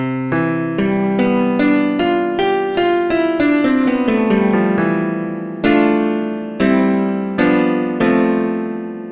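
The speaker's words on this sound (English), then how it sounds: "the basic idea behind it is to emulate an older piano, so a rusty piano." An emulated old, rusty piano plays a slow melodic line with chords, each note struck clearly and decaying, sounding alone and fairly loud.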